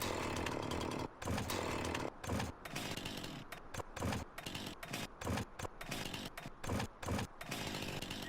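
A Johnson chainsaw in the game Farming Simulator 19 snarls loudly in short repeated bursts, cutting out briefly about a dozen times in a choppy on-off rhythm, close and unaccompanied.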